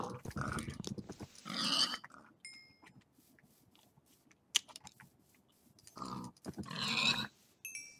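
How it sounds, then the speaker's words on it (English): Pigs grunting and snorting in Minecraft, a crowd of farm animals in a pen; short bursts of squealing grunts come near and loud in two clusters with quieter gaps, with keyboard clicks between them. "So many pigs are on there, dude."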